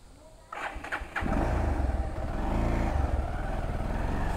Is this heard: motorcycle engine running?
yes